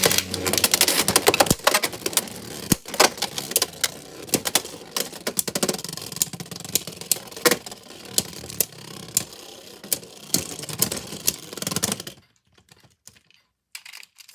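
A Beyblade Knightmail on a 160 Rubber Excel tip spins and scrapes in a stadium, a busy rattling, clicking whir with repeated sharp knocks of contact, ending abruptly in near silence after about twelve seconds.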